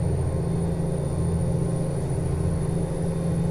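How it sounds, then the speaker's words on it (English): Steady, loud low diesel drone from a Cummins N14 truck engine in American Truck Simulator, a constant idling rumble with a faint high whine and no speech. "It's the Cummins N14 diesel engine."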